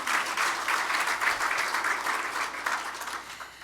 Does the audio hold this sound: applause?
yes